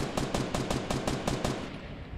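A rapid burst of about nine evenly spaced shots from the jump gun in Fortnite, a quick rhythmic automatic fire at moderate volume that cuts off abruptly.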